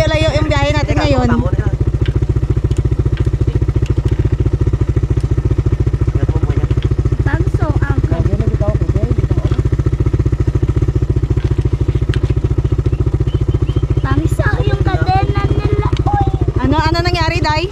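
A motorcycle engine runs loudly and steadily up close with a constant rattling drone, while voices talk over it.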